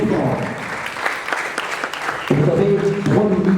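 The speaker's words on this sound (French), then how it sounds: "On applaudit très fort." An audience at a university debate on sport claps for a speaker, a scattered burst of applause that fades out as voices and talking take over.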